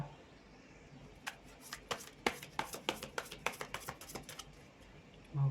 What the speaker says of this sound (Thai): สับมาอีกนิดนึงนะคะไพ่กระเด็น